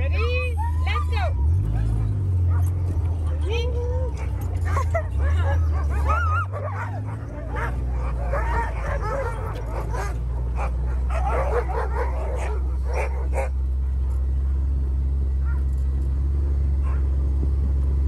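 Sled dogs barking, yipping and whimpering in an excited chorus near Whitehorse, many overlapping calls close by over a low engine-like rumble, with people talking among them.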